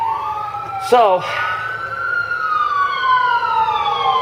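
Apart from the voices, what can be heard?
ambulance siren passing by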